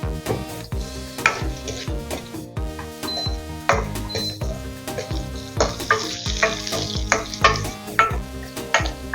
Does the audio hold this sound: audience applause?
no